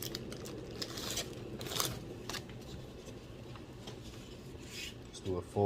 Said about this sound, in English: Just do a fold quickly.